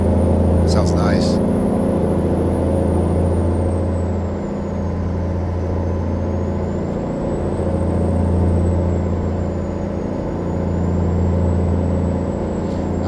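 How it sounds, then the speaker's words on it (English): A heavy hauler truck in American Truck Simulator with the window rolled down: a steady, loud, low diesel engine drone rising and falling slightly, plus a brief hiss near the start, under someone talking. "I want to roll my window down, hear the sound of this truck a little better."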